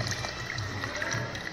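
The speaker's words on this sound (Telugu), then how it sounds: "చింతపండు పులుసు పోసుకోవాలి." Tamarind water poured into a pan makes a steady, soft liquid trickle that runs unbroken throughout, close by and fairly quiet, with no speech.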